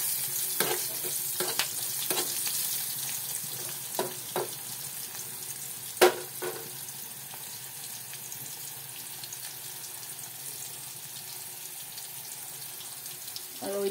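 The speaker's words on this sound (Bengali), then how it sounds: "গাজর গুলো একটু ভেজে নিব।" Carrots frying in oil in a kadai, a low, soft sizzle throughout with several sharp knocks and clatters of stirring early on, one louder clank midway, and quieter frying afterward.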